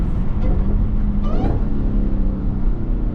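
Dodge Hellcat engine blipping and revving on a downshift, a loud continuous low rumble with a brief rising rev burst near the middle and no talking.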